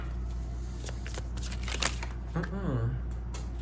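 Tarot cards are shuffled in a few quick riffling bursts close by, with a voice speaking briefly over the end.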